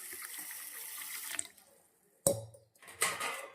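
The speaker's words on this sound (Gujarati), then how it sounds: "તો હવે આપણે અંદર નાખવાનું છે પાણી" Water runs and splashes into a container of mung beans and rice set to soak, pauses, then two short pours follow, close and fairly quiet.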